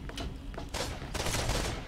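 Automatic pistol fire in the video game Borderlands, a dense rapid burst of gunshots that runs almost continuously with brief breaks, loud and close against the game's background sound.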